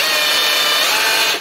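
Sunc cordless rotary hammer set to drilling mode, running with a steady high-pitched whine and rattle throughout, loud and close, with no talk, cutting off at the end.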